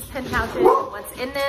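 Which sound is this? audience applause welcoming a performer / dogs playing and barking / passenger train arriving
dogs playing and barking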